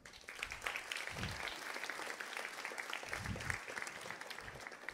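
A youth audience at a religious gathering breaks into applause, a fairly quiet wash of clapping with a few low thumps mixed in.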